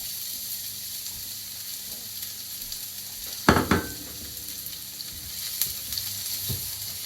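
Diced onion frying in olive oil in a pan, a continuous close sizzle with a couple of sharp stirring clatters midway and light scraping later.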